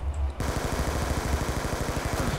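Rapid automatic gunfire in Call of Duty Black Ops 2 Zombies, a dense rattling burst that starts abruptly and continues steadily without pause, loud and close.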